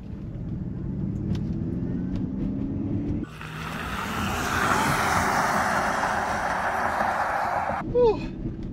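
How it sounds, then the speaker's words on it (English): A steady synthetic whirring hum from a Ford Mustang Mach-E's simulated engine sound that swells as the electric car pulls away, with road noise and a brief squeak near the end. "the piped in sound, it's kind of electric, kind of like an engine"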